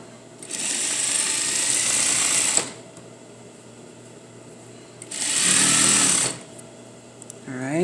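Sewing machine stitching the front of a jean to the back, heard in two steady, loud whirring runs, the first about two seconds long and the second shorter, with quieter pauses between.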